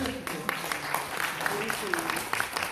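During a talk concert in Taean, the audience gives light, scattered applause, soft separate claps heard under a talking voice.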